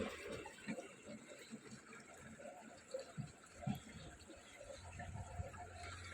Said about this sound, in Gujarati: આપણું પાણી થઈ ગયું ચાલુ